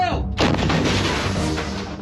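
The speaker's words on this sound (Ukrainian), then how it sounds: "Постріл!" A single loud artillery shot booms sharply, followed by a long rolling rumble that slowly fades over a couple of seconds.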